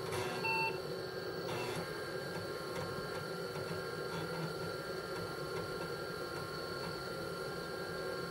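An IBM 5155 Portable PC boots DOS from a floppy disk: one short, clear beep near the start, then a steady whirring hum with faint mechanical clicking from the drive running throughout.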